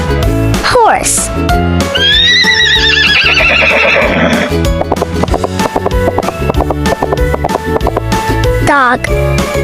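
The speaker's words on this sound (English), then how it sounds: "horse." A horse gives a loud, quavering whinny near the start, followed by rhythmic hoof clip-clops, all over background music.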